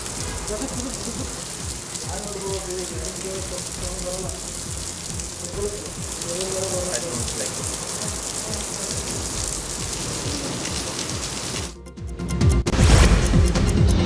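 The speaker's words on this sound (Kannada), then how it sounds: "ಧಾರವಾಡದಲ್ಲಿ ಅರ್ಧ ಗಂಟೆಗೂ ಹೆಚ್ಚು ಕಾಲ ಗುಡುಗು ಸಹಿತ ಮಳೆ ಬಂದಿದೆ" Steady rain patters on a hard surface throughout during a thunderstorm in Dharwad, then a sudden loud, low crash near the end, like a nearby thunderclap.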